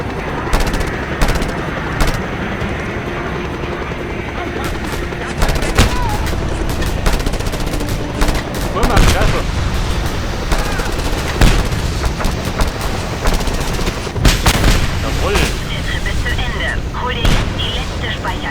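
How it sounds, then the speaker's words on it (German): Heavy automatic gunfire from the Just Cause 2 game, rattling machine-gun bursts and scattered impacts running steadily throughout, close and loud, with occasional voices under the din. "Schwerer Beschuss."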